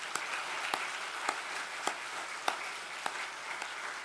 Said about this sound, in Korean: 부활하신 주님께 찬양과 경배의 박수 한번 보내겠습니다